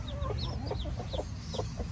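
Chickens cluck and chirp repeatedly over a steady low rumble, several birds close by, with no talking.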